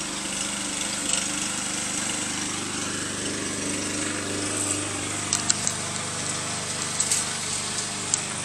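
A lawn mower runs steadily across a backyard lawn, a continuous droning engine at moderate distance with occasional clicks and knocks and no talk.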